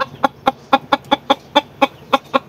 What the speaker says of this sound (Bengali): আমার এটা হইতেছে দেশি মোরগ